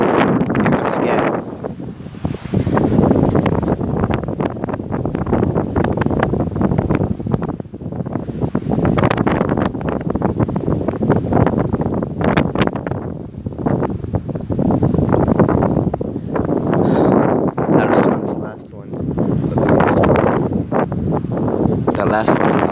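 Strong gusts from a passing thunderstorm in Corpus Christi, Texas, roar steadily through trees and buffet the microphone, surging and easing in waves for the whole stretch, loud and close with no talk over it.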